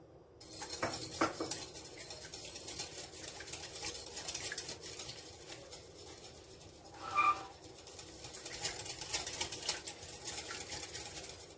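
Two egg yolks whisked for a börek sauce, a quick, steady clinking and scraping of a utensil against a bowl that carries on throughout, with one brief louder clink partway through.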